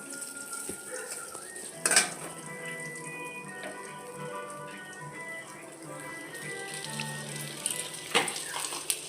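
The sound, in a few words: stirring and turning brinjal in a pan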